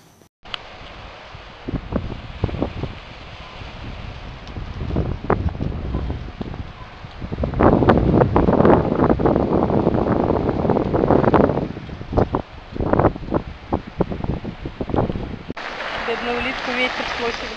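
Strong wind blows by the sea at Gudauta, Abkhazia, buffeting the microphone in loud, rough gusts that swell and ease across the clip, while people talk over it.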